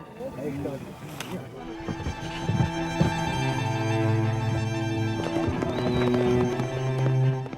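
Horses released from crates into a new home, with hooves clattering and clip-clopping on the ground and an occasional whinny, mixed with a murmur of onlookers' voices and a steady background rumble.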